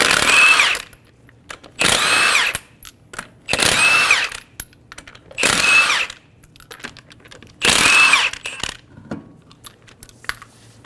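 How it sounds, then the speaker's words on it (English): A power tool fitted with a 21mm socket removes the lug nuts from a Toyota Camry wheel. Five loud, whirring bursts of about a second each are separated by short pauses with faint clinks. "Using a 21mm socket, remove the 5 lug nuts."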